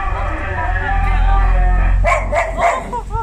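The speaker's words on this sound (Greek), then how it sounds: "Είναι ένα σκυλάκι, αγάπη μου." A small dog yips and barks in a few quick high bursts near the end, while someone talks steadily through most of the moment outdoors in mountain countryside.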